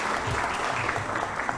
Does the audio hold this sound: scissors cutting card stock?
no